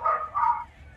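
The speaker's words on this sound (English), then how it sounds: "Did I hear some dogs in the background?" Dogs barking in the background, a few short yelping barks in quick succession at moderate distance, with no one talking.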